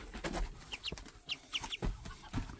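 High, thin peeping calls from a duck, several short chirps in quick succession over low background rustling and thumps.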